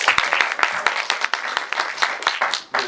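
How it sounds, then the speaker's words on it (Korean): Audience at a Korean film screening event clapping in brisk, dense applause that fills the room for a few seconds. "박수 한번 주시면."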